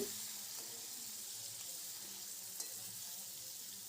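Boiled potatoes being stirred into hot oil in a pan for Gujarati batata poha give a faint, steady sizzle with soft scraping, quiet and close, with no voices.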